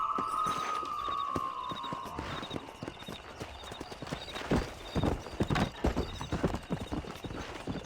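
Horse hooves clip-clop in Red Dead Redemption as the rider sets off, first a whinny, then a quickening run of sharp, close hoofbeats building into a steady gallop rhythm.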